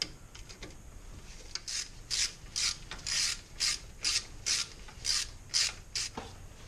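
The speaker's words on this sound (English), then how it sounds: "you can get a socket with an extension and use a 6mm Allen wrench" Socket with extension and a 6mm Allen wrench work loose the hub hardware on a 4WD wheel with worn manual locking hubs, giving about ten steady, evenly spaced ratcheting clicks, close and fairly loud, with no voices.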